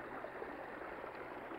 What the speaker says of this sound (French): Comme ici, la petite cascade là.